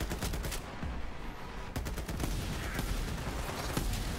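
Rapid-fire gun in Borderlands 3 shooting sustained fast bursts, loud and close, dense rattling shots running almost without pause over game background noise.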